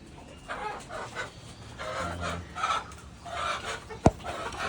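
A desi hen on a small farm in Dhaka gives soft, intermittent clucks over steady background noise, ending with one sharp click.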